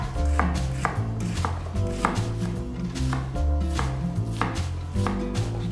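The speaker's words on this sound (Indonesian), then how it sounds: "Kita potong bawang bombay" Onion is chopped into small pieces with a knife on a board, a close, loud, regular series of firm thuds repeating about twice a second with no voices.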